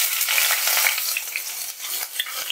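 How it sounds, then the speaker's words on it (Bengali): Ginger paste fries in oil in a kadai, giving a close, steady sizzle with spatula stirring and scraping strokes, and no voices. "দিয়ে একটু আদাটা ভাজা করে নিচ্ছি যাতে আদার কাঁচা গন্ধটা বেরিয়ে যায়।"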